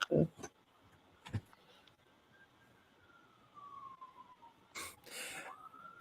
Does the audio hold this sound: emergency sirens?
yes